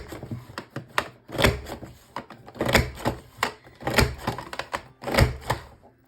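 Scissors cut trimmed paper scraps for a Halloween scrapbook page, making a run of crisp, close snips and clacks at an uneven pace with short pauses between them, and no talking.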